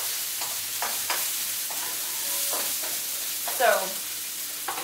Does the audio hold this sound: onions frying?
yes